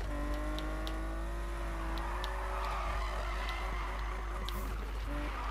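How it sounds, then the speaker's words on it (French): Car drifting and skidding through corners in the video game Need for Speed (2015), with sustained engine tones shifting pitch over a constant rumble and tire noise, loud and continuous throughout. "Je suis vraiment pas habitué au drift de ce jeu"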